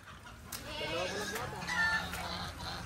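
Poultry calls from ducks and native chickens in a farm field, honking and clucking squawks mixed with nearby people talking over a steady outdoor background.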